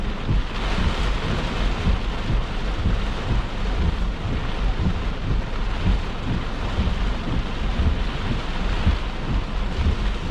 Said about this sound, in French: c'est le genre d'orage que t'as aucun visuel